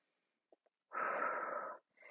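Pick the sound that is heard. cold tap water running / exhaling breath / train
exhaling breath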